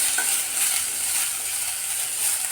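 Onions fry steadily in a pan for a dhaba-style egg curry, cooking toward golden brown, with a continuous close sizzling hiss and faint stirring scrapes, no voices.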